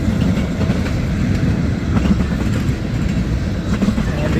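A CSX mixed freight train rolls past in Homestead, Pennsylvania, giving a steady low rumble with faint wheel clatter. The sound holds near and even for about four seconds.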